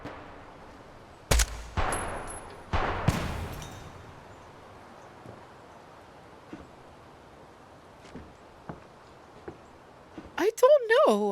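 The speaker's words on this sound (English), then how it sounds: "Oh no, they're definitely shooting at me." Bursts of gunfire aimed at the player in the video game Project Silverfish, with two loud volleys early on followed by scattered fainter shots and some speech.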